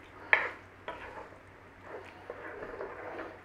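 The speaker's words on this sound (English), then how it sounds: "Let's just give that a stir and we'll go in with the second one." Meatballs are stirred in a pan with tomato for one-pan Italian marinara, bringing a sharp metallic scrape and clack of the utensil, then softer scraping and low sizzling, close and fairly quiet.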